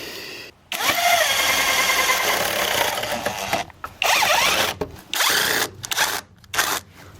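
A power screwdriver drives screws into a PVC door frame with loud whirring runs, each broken by short ratcheting clutch slips and pauses between screws.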